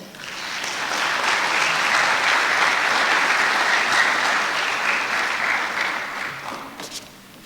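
Sustained audience applause at a Peruvian academic lecture session welcoming an engineer to open it, a dense, even clapping crowd rising quickly and holding for several seconds before tapering off.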